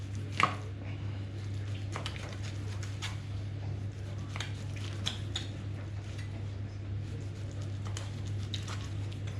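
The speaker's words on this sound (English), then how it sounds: "And I'll just roughly chop this." A knife chops beef into rough chunks on a board for boeuf bourguignon, giving scattered, irregular taps over a steady low hum throughout.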